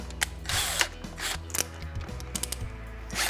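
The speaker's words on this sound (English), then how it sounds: "drill out each rivet one by one" An electric drill with a 6mm bit grinds in short, repeated bursts with whirring mechanical noise, close by and fairly loud, pausing briefly between each metal rivet it drills out.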